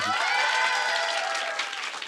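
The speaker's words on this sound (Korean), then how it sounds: "박수 한번 쳐줘야죠" A lecture audience breaks into applause for a guest speaker, a full, dense burst of many hands clapping that holds steady at first, then thins slightly toward the end, with no talking over it.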